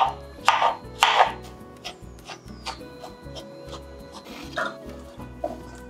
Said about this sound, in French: on prend nos 4 morceaux de courgettes et on va les découper en petits morceaux